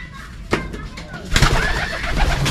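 Pigeons in a loft give soft low cooing calls amid rustling and shuffling, with two louder movements standing out against a constant background.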